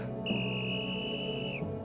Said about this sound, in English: The emergency whistle I was blowing wasn't doing any good.